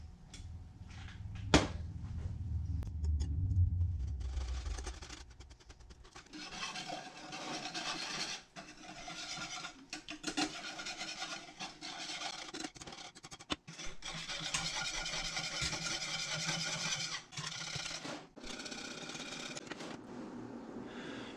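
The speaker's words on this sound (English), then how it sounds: "We're going to keep it moving, keep whisking it." Whisking caramel in a pan: quiet, close scraping and rubbing strokes run almost continuously, with a few brief clicks and knocks and one low thump near the start.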